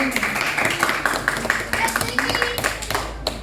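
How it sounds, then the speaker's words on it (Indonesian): Scattered hand claps from a small group of elementary school pupils in a classroom, loose and uneven, with chatter and voices mixed in underneath. "sudah semua dari kelompoknya Mas Alta, beri tepuk tangan dulu."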